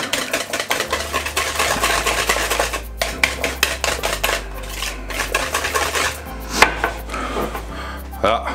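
Brownie batter being mixed by hand in a bowl, with repeated scraping and knocking of the utensil against the sides in an uneven rhythm, close and fairly loud, with no talk.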